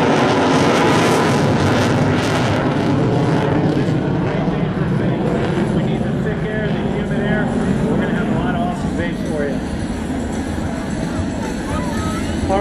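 An F-18F Super Hornet jet roars at an air show over a beach, a loud, sustained engine rumble and whine that fills the whole stretch without letting up.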